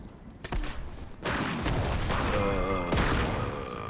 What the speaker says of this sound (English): I literally shot this guy three times with this thing and it didn't hurt him at all